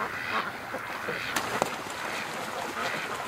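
Ducks on a lake, seen from a canoe, give scattered quacks and honk-like calls over steady outdoor water ambience, with one or two sharper calls standing out mid-way.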